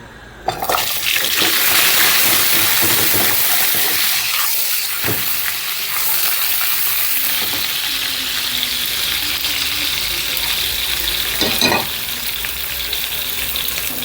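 Mini honey sausages fry in oil with a loud, close, continuous sizzle that bursts up right at the start, with a few soft knocks from the pan along the way.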